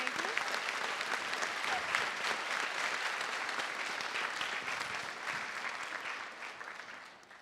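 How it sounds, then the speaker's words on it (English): An audience at a school spring concert for fifth and sixth graders claps in loud, sustained applause that fades gradually toward the end, with a few voices faintly beneath. "If we could give them all a huge round of applause."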